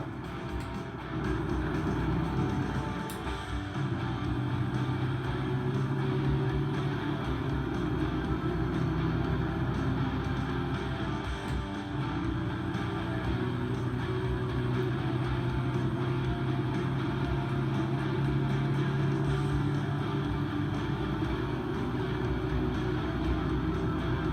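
Simulated truck engine in American Truck Simulator winding down off the throttle with the Jake brake on, a continuous low rumble that stays dense and steady across the whole stretch, no voices.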